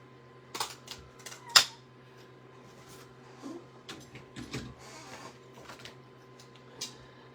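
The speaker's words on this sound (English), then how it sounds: "I got this small oval punch that will just cut out this hello perfect." A small oval paper punch cuts a piece of card, making a few sharp clicks and one louder snap early on, followed by faint paper handling and scattered light taps in a quiet room.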